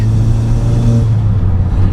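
A modified Volkswagen MK5 Golf GTI exhaust booming while accelerating, a loud, close, deep and steady engine drone from the back of the car, with no talk over it.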